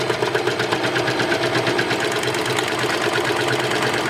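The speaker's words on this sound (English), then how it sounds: "let's sew down here and see how this looks here sewing knit fabric with a serger" A serger stitches knit fabric with a loud, steady, rapid mechanical chatter that runs continuously close by, with no pauses and no voices.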